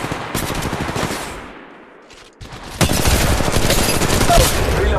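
Rapid automatic gunfire in the video game Apex Legends, loud sustained bursts that cut out briefly to a near-silent gap before a fresh, heavier burst resumes and continues to the end.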